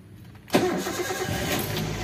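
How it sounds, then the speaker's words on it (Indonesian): A Toyota Avanza with a freshly overhauled K3-VE engine cranks briefly and catches with a sharp burst, then settles into a steady, close idle that holds to the end. "kita langsung nyalain mesinnya di pagi ini"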